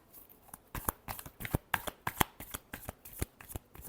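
Tarot cards being shuffled in rapid riffling bursts, a quick run of crisp papery flutters and snaps close to the listener, with no talking over them.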